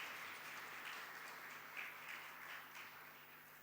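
A church congregation at Sunday Mass claps to welcome the visiting sisters, a soft, distant, steady patter of many hands beneath a low background hum.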